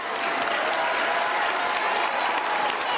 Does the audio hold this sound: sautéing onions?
no